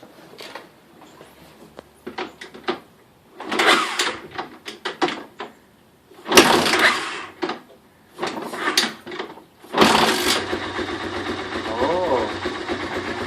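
A 1985 Honda 250SX ATC three-wheeler engine cranks in several bursts before firing up, then settles into a steady running idle near the end, close by and fairly loud.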